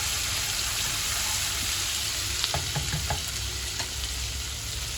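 Boiled chana dal and chicken keema sizzle steadily in a pan, with a short run of spoon knocks and stirring clicks in the middle of the constant frying hiss.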